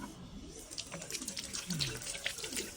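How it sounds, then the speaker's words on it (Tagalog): Tap water runs into a hospital sink while hands are washed beneath it, a steady splashing hiss with small drips and shifts in the flow, close and fairly quiet. "Siyempre, maghuhugas ako ng kamay."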